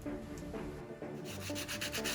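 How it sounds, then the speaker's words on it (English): Fine sandpaper rubs over the plastic of a white TCX EVO 2 Micheline Edition dirt bike boot, giving close, steady back-and-forth scratching strokes that come a little stronger and more rhythmic toward the end, with no talking. "I will do another round of sanding"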